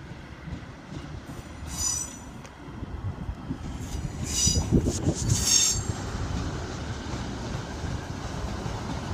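A Class 156 diesel train rolls into a platform at Leicester station with squealing wheels and rumbling carriages, metallic screeches rising in bursts over a steady low rumble close by.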